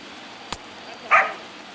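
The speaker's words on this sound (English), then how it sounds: "Sorry that the dogs have been barking longer than usual." One dog gives a single short bark at a distance after a sharp click, heard indoors over low background hiss.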